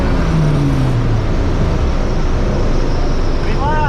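A Honda Del Sol launches in a drag race, its engine a loud, steady roar with a brief rising pitch early on, mixed with broad track and crowd noise throughout.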